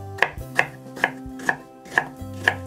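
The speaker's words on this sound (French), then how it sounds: "Je coupe ensuite les fruits en petits dés." A knife dices fruit on a cutting board, six crisp evenly spaced strikes close up with no talking.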